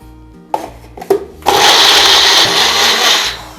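A kitchen mixer grinder blends coriander root for rasam, starting with two brief pulses and then running into a loud, continuous, whirring grind at close range.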